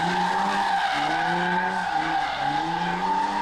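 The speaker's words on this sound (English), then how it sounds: "Hear that thing bumping up against the rev limiter" Diesel truck engine at a truck fest bouncing off the rev limiter, a loud sustained high-revving drone with rhythmic stepped pitch cuts as the limiter repeatedly kicks in, with no voices.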